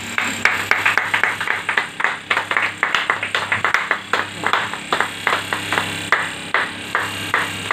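An audience at a business mart opening in West Bengal claps in honour of a guest, a rhythmic, fairly loud run of distinct hand claps, a few hands beating together in a steady pulse for several seconds.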